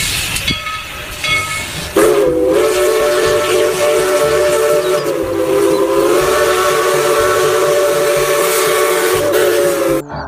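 A toy Thomas steam train gives a loud, shrill whistle in one long sustained blast with a breathy hiss, preceded by a short rattling start.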